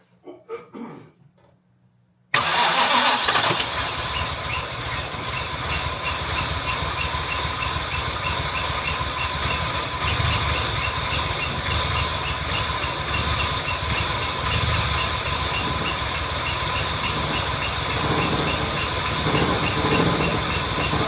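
A Jaguar MKII engine, just reassembled, catches after a couple of faint cranking sounds and settles into a loud, steady, slightly rough idle that runs on unbroken and close to the listener.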